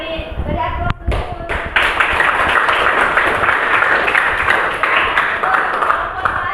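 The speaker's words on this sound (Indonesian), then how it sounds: "Beri aplaus dulu" Students clapping together in a classroom, a dense burst of applause that swells in after a few scattered claps and holds steady and fairly loud throughout.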